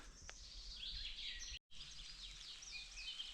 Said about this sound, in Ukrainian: Послухайте, як тут співають пташки.